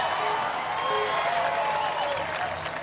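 A competitor's family cheers and claps at the American Ninja Warrior National Finals, steady applause and crowd noise with voices mixed in throughout.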